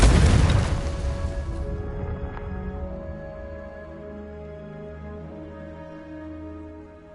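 A Confringo spell explosion in the video game Hogwarts Legacy, with a loud sudden boom that decays into a long, ringing, shimmering tail fading over several seconds.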